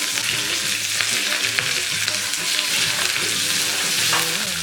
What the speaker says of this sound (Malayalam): ജസ്റ്റ് ഒന്ന് പച്ചമുളകിന്റെ കളർ ഒന്ന് മാറുമ്പോഴേക്ക് കറിവേപ്പില ഇട്ട് കൊടുക്കാം